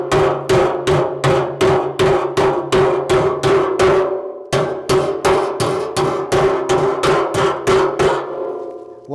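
Repeated steel hammer strikes ring out on the rolled edge of a 55 gallon steel drum, a fast, loud, steady run of metallic blows with a brief pause midway, then more strikes in the same rhythm.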